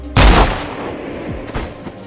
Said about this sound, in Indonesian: driver pun menembaknya.